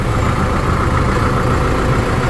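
A New Holland 7630 tractor engine runs at a steady, loud, deep diesel rumble, close up and continuous, with no one talking.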